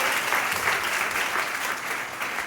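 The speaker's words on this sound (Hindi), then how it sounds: "एक जोरदार ताली उनकी उस महान सोच के लिए" A college audience claps loudly and steadily for the whole stretch, a dense sustained round of applause with no voices over it.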